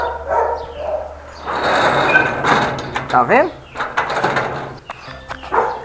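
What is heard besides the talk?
dogs barking in the street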